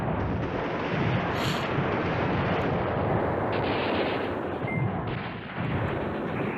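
Airstrike explosions and heavy gunfire in the Command Ops 2 wargame, a loud continuous barrage of booming blasts and crackling fire that barely lets up throughout.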